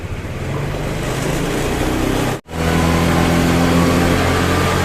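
A Honda Vario 110 scooter engine revs hard and steadily, close and loud, cutting out abruptly for a moment midway before roaring straight back up during a charging-system check.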